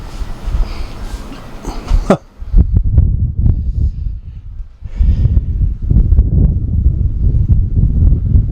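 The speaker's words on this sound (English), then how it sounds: "we got a little bit of wind, so you probably can't hear me very well" Wind buffets the microphone on the flying bridge of a Carver 530 Voyager boat, loud rumbling gusts with a sharp cutoff partway, while someone talks through it.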